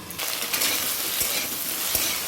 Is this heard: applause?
no